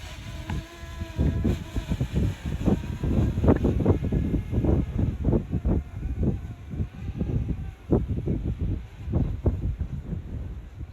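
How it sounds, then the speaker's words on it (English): Strong gusty wind buffets the microphone outdoors where a DJI Mini SE drone is flown, producing loud, pulsing rumbling bursts throughout. "really strong wind."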